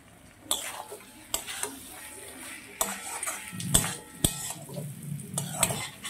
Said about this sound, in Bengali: এইভাবে খুব ভালো করে কপি আলুটাকে আমি কষিয়ে নেব।